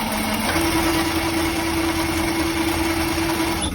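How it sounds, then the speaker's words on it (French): A workshop machine fitted with a new silent motor runs with a steady, even hum and a faint tone layered over broad noise, constant and close until it stops at the end, with no talking. "on a mis un moteur silencieux, donc c'est hallucinant par rapport au bruit qu'elle faisait avant"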